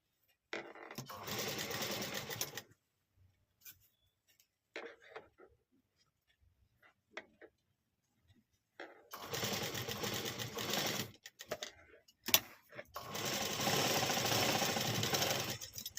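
A sewing machine stitches lace trim onto a ready-made blouse, running in two long close bursts broken by a quiet stretch of short taps and handling noises.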